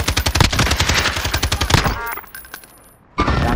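Rapid automatic gunfire in the video game Call of Duty: Modern Warfare, loud and close, with steady bursts for nearly two seconds, then a quieter stretch of faint shots before another loud burst at the end.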